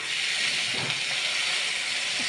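Spice paste of green chili, ginger, cumin and coriander powder hisses and sizzles steadily in hot oil after a splash of water is added, while fish curry cooks; the frying noise stays even and close throughout with no talking.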